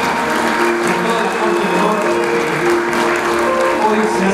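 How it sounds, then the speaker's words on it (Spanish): Wedding guests give loud, sustained applause as the hosts' family is welcomed at an evening reception, a dense even roar of clapping from a large crowd with music faintly beneath. "Fuertísimo el aplauso por recibir hoy en esta noche"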